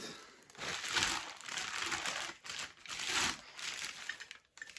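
Plastic packaging on a delivered parcel crinkles close by in several uneven bursts, rustling and crackling as it is handled, with brief pauses between.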